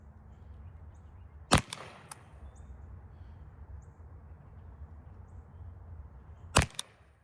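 Two sharp, loud pops about five seconds apart from an S2 launcher firing chemical practice rounds at a training dummy, each a crisp bang with a short tail, over a steady low outdoor rumble.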